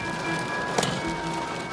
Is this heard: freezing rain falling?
yes